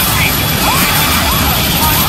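A helicopter engine sputters and fails in the horror game Outlast 2. The roar is loud and rough and fills the whole stretch without a break, with a few faint whining tones sweeping across it.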